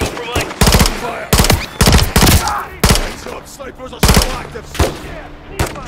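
Gunfire in Call of Duty Modern Warfare 3 on a frozen tundra, repeated loud close bursts of automatic fire separated by short pauses, with faint voices between.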